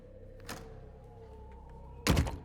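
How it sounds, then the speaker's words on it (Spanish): A door opens in a horror story sound effect: a soft knock or latch click, a faint creaking hum, then a louder heavy thunk near the end, close and isolated against quiet background. "toqué el picaporte y me abrieron la puerta"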